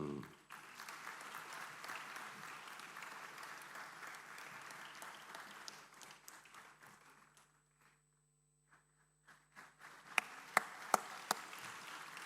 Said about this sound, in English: keep the applause running